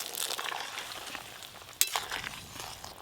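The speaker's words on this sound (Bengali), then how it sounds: "টকের ঝোল ফুটে গেছে, এবার ভেজে রাখা চিংড়ি মাছগুলো দিয়ে দেবো" Sour prawn and taro broth bubbling in a pan as fried prawns go in, a close steady sizzle with a sharp clink of utensil against the pot partway through, no voices.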